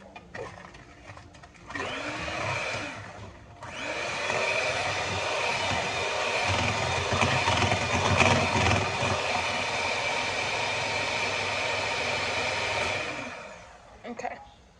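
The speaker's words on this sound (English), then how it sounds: "I'm gonna get my hand mixer and I'm gonna whisk it" A hand mixer whisks sugar in a bowl with a steady electric whir. It starts in two short bursts, then runs continuously for about nine seconds and winds down at the end, close and fairly loud with no talk.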